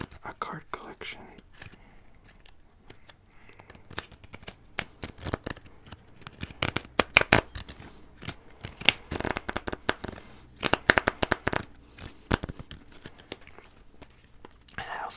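Exclusive collectible cards from an Old Spice shampoo promotion being shuffled and handled up close in an ASMR setting, with quick riffling snaps and soft flicks coming in bursts alongside a soft whispering voice.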